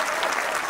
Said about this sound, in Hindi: अगर बनारसी मस्ती यहां पर छा गई है तो एक बार जोरदार तालियां बजाइए।